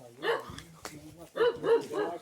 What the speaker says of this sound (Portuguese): O cachorro tá bravo.